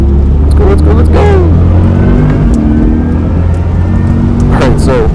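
A 2024 Chevy Corvette E-Ray hybrid accelerates out of the pit lane onto a race track, its engine note climbing loud and close over constant road and wind roar.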